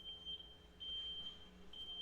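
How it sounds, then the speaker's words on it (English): An electronic alarm-style beep repeats at a steady high pitch in an apartment setting, sounding in several sustained bursts with short gaps, faint and somewhat distant, with no talking. "It's like the eternal beep."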